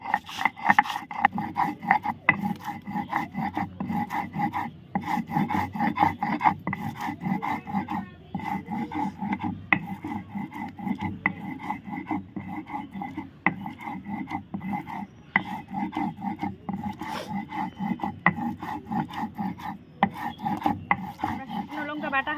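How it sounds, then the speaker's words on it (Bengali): Dried red chilies are ground on a grinding stone: steady, rhythmic rasping strokes of stone on stone, close and fairly loud, repeating without pause. "এই যে এবার আমি শুকনো লঙ্কাটা বেটে নিব"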